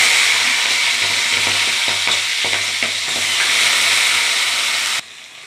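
Green peas tossed into hot oil with cumin tempering sizzle loudly and steadily, with scattered stirring scrapes, until the frying noise drops off abruptly near the end.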